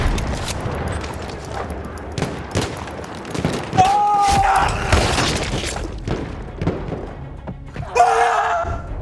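Grenade blast in the World War I shooter Battlefield 1 on the St. Quentin Scar map, a heavy boom amid constant gunfire, explosions and battle noise, with a second burst of shattering noise near the end.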